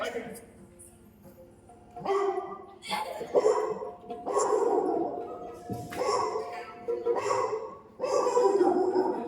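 A mimicry artist on stage imitates a rich household's dog, giving several loud, close bursts of barking and yipping with short pauses between.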